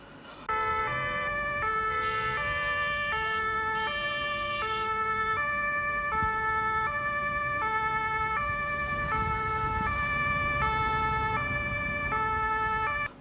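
An ambulance siren on a Lagos road wails in a steady repeating two-tone pattern, loud and sustained over a low rumble of traffic, with no talk.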